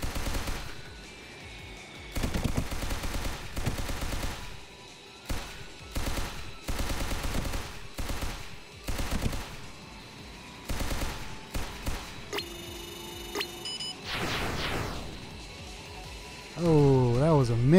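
Aircraft cannon bursts in the flight combat game Sky Rogue, several separate rattling volleys of rapid fire with short gaps between them, followed by electronic tones and a rising engine-like whine, with a voice talking at times.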